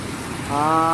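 Heavy rain pours steadily while walking along a highway, a loud continuous wash of noise with a rising tonal hum partway through.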